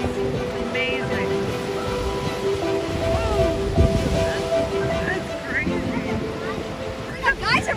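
Ocean surf churns steadily at Thor's Well on the rugged coast, a continuous roar of waves with wind buffeting the microphone and people talking over it.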